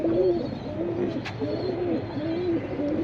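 Pigeons coo repeatedly at a pigeon market, soft rolling calls overlapping at close range against a low background murmur.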